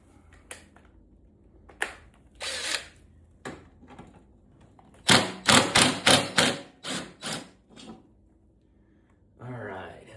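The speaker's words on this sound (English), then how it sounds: "we'll use the impact just to get it off, because I'm lazy and I like power tools" Impact wrench hammering loose the bolt on a lawnmower blade, a rapid burst of loud rattling impacts preceded by a few scattered thuds, with someone speaking briefly at the end.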